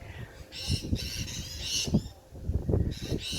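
Harsh, raspy squawks of mynah birds in a tree repeat in bursts, fairly close, over low rumbling background noise.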